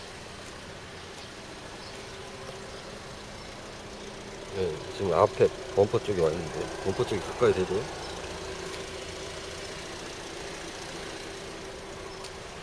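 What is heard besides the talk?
idling car engine of a 2009 SM3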